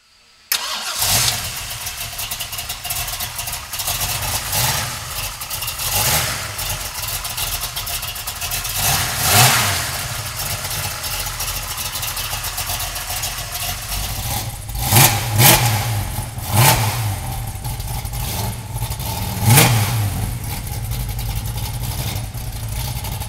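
A 1968 Ford Mustang Bullitt with a stroker engine cranks and fires up, then settles into a rumbling idle broken by several sharp throttle blips and revs, close and loud, with no voices.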